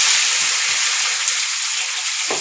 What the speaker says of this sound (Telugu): తర్వాత అదిగోండి టమాటా ముక్కలు అయితే వేసుకున్నాం.